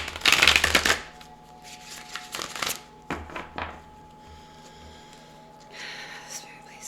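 A deck of tarot cards is shuffled close by, a crisp riffling burst followed by scattered softer slides and taps of cards, with a low steady hum beneath.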